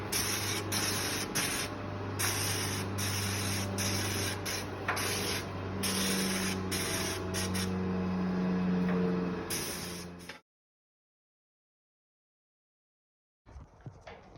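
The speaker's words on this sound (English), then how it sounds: "we're grinding the paint off" An abrasive grinder strips paint from a metal float trailer, a loud continuous hissing roar with rhythmic dips as the tool is worked, then cutting out abruptly into silence before briefly restarting.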